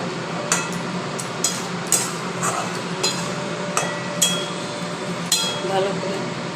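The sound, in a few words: stirring cashew paste and spices in a cooking pan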